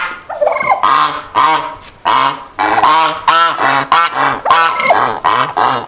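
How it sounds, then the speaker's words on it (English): Loud, repeated honking calls from a goose at a small farm with Muscovy ducks, arriving in a steady run of about a dozen harsh, nasal blasts close to the listener with no talking. "But you gotta look at this goose."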